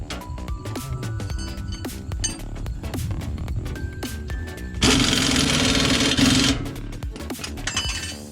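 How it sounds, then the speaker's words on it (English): Tightening lock bolts on a truck transmission for a 6.0 CUCV, rapid metallic clicks and clinks from a ratchet, with a louder burst of noise partway through and no talking. "Now we can tighten down our lock bolts here."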